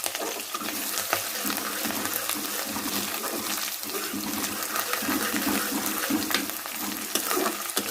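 Garlic ginger paste sizzles in a pan with vegetables, a steady, loud, broadband frying hiss that fills the whole stretch with faint stirring crackles and no talking.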